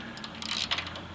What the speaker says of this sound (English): it's a lot easier to use a 10mm deep socket